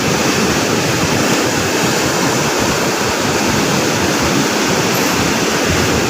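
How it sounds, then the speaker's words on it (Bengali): Floodwater rushes through a coastal sluice gate after days of continuous rain, a loud, constant roaring wash with no pauses or other sounds. "এই এলাকার সমস্ত পানি গেট দিয়ে ওঠানামা করে"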